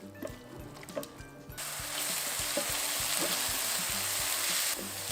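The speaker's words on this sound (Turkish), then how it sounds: "Yemeklik doğradığım bir adet kuru soğanı yağın üzerine alıp hafif pembeleşene kadar kavuruyorum." A few light clicks and taps, then a sudden burst of loud sizzling as chopped dry onion hits hot oil, hissing steadily with occasional knocks before easing slightly.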